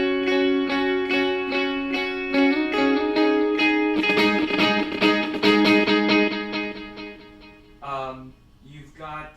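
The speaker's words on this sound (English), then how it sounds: "This is a quarter note delay." Electric guitar played through a quarter-note delay set to about 441 ms, a steady run of picked notes trailed by overlapping echo repeats that blur together, ending in fading repeats.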